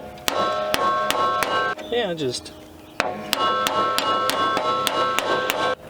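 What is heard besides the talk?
hammering with channel-lock pliers used as a hammer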